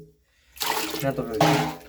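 Water mixed with a little soil is scooped out of an aquarium tank in two sloshing, splashing bursts following a short quiet lead-in, with a voice faintly audible under the watery rush.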